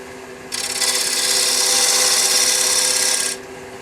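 Sharpened 3/8 inch Ellsworth-type gouge cutting wood on a lathe, a loud hissing shear that starts suddenly, holds steady for about three seconds over the low motor hum, then stops.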